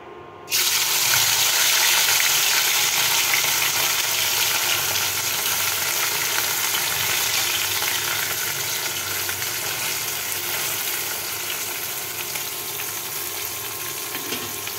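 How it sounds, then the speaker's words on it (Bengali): Fish slides into hot oil in a pan and sets off a sudden loud sizzle that holds steady as a dense, close hiss, easing slightly toward the end. "গরম হয়ে গেছে তেল, এখন মাছ দিব। এখন মাছ ছেড়ে দিব।"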